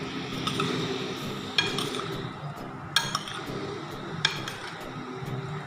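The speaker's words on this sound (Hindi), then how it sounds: "देखें, अच्छे तरीके से हम इसे मिक्स करेंगे।" Creamy fruit chaat being mixed in a bowl with a spoon, soft steady stirring and squelching broken by a few sharp clinks of spoon against the dish.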